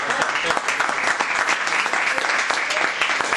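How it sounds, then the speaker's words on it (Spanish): Audience applause after a talk on political change in Latin America, a full room clapping briskly and continuously with crisp individual claps, while a voice speaks faintly underneath. "Un aplauso."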